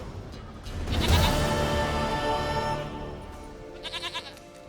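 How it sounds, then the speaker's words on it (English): A goat bleats loudly in The Witcher 3 video game, one long wavering cry that fades out, followed by a few faint short bleats near the end. "Goat of mine, dearest, sweetest goat."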